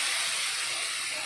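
Curry leaves dropped into hot oil for a dry fish curry, a brief loud burst of bright hissing sizzle, close and unbroken, with no voice.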